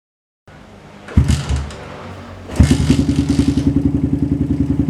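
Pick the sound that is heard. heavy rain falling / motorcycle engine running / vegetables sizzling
motorcycle engine running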